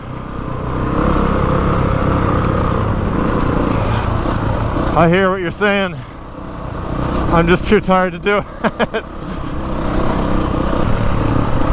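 Honda CRF450RX dirt bike engine humming steadily during a ride, with a rough mid-range drone under a man's tired, close-up talk.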